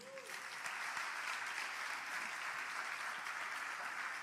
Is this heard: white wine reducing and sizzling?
no